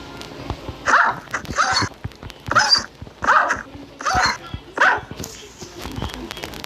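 Six sharp barks from two dogs in Minecraft in a steady run, close and loud, with faint background noise between them.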